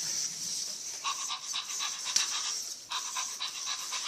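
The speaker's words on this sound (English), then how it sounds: "So he's an interactive puppy robot" A Spin Master Zoomer interactive robot puppy toy gives off a steady panting, breathy electronic hiss with faint repeating chirps, fairly quiet and continuous throughout.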